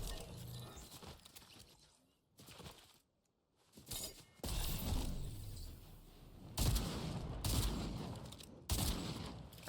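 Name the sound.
shotgun gunfire in the video game Fortnite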